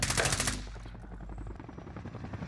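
Rapid automatic gunfire rattles in the video game Warzone: a dense burst of shots at the start, followed by quieter scattered shots and battle noise.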